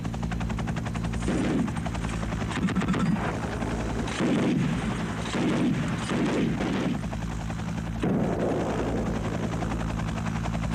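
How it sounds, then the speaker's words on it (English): Mi-8 helicopter thudding overhead in a wartime strike on a village, its rotor drone constant and loud while bursts of machine-gun and heavier gunfire crackle repeatedly over it. "the helicopter strikes the easiest target available, a nearby village"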